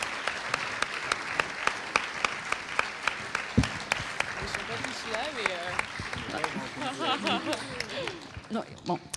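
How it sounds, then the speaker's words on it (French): Audience at a Dauphine luxury club conference gives the student team a round of applause, with sharp, evenly spaced claps standing out near the microphone as people talk and murmur underneath. "Je pense qu'on peut vraiment applaudir très chaleureusement l'équipe étudiante"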